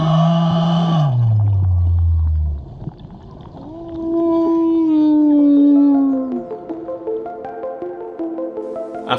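Long, loud humpback whale song recorded in the water off Mo'orea, French Polynesia, with deep moaning calls sliding downward, then a sustained rising-and-falling tonal cry with rich harmonics, close and resonant.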